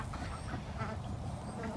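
Khaki Campbell ducks quack softly in a short, faint burst of scattered calls from a small flock in a farm yard.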